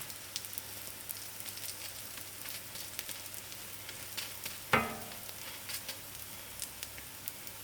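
A roti sizzles on a hot pan as it roasts, with a soft, steady crackle and scattered tiny pops. A single louder thump comes midway as it is turned.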